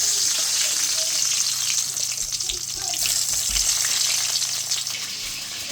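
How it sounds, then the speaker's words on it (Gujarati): Eggplants frying in hot oil in a home kitchen, a steady close sizzle with occasional stirring scrapes, loud and continuous. "આ બધા રીંગણા તળી નાખીએ અમે"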